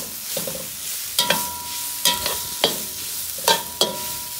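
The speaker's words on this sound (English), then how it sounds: "This is 4 cloves of garlic minced. Just want to cook it a little bit." Four cloves of minced garlic cooking in a pan for pad thai give a soft steady sizzle broken by six sharp metallic scrapes and taps from stirring, with no voices.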